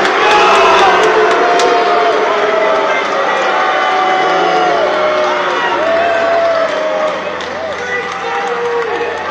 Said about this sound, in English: So here, these guys are booing that the pastor kicked Mark Driscoll off the stage.